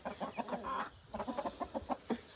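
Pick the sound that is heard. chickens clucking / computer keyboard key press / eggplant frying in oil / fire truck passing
chickens clucking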